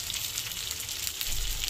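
Fish sizzling steadily in a pan with onion and coriander leaves, a continuous close frying crackle over a low hum, with no talking.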